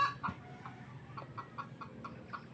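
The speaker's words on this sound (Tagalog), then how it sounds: "Ito yung manok. Putak ng putak kasi siguro ko mangingitlog na siya." Hen about to lay an egg, clucking in a quick series of short, faint calls from a rural yard, close by but quiet with a few louder squawks among them.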